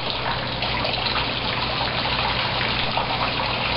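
Water gushes and splashes continuously through a garden pond filter planted with water celery, a steady broadband rushing flow close by without pause.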